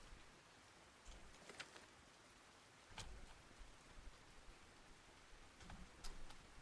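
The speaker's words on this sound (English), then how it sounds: "this rain is really coming down" Rain falls in the Russian Fishing 4 video game at Belaya, a faint, steady hiss scattered with soft ticks and drop taps.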